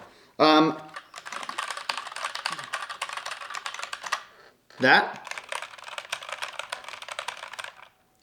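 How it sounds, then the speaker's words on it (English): Rapid typing on a mechanical keyboard with tactile Gateron Brown switches in two bursts, muted and thuddy keystrokes clattering close up, each burst opened by a brief spoken word. "my daily driver keyboard, exact same keyboard, but gateron browns"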